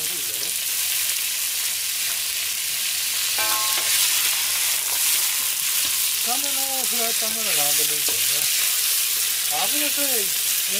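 Bok choy, new onion, carrot, shimeji mushrooms and beef sizzle steadily as they are stir-fried in a hot, oiled frying pan, a loud continuous hiss throughout with a few brief faint voice sounds.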